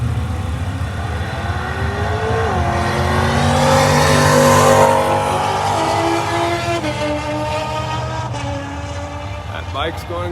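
A bracket drag racing car roars down the quarter mile, its loud engine note rising and then falling away as it passes, with an announcer talking over it throughout.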